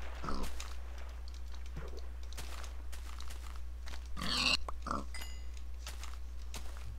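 Pig grunts from the Minecraft video game, a few short oinks over steady background game audio and scattered keyboard clicks, with a voice talking at times.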